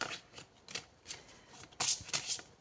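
Tarot and oracle cards handled to draw one from the deck, soft quiet riffling and sliding of card edges in short bursts, with a slightly louder flurry near the end.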